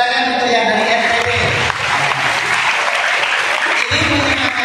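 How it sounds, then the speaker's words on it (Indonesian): Audience at an Islamic boarding school gathering in Kudus applauding guests from NTT, a dense, loud burst of clapping that dips briefly and swells again, with a voice over it. "tepuk tangan untuk yang dari NTT"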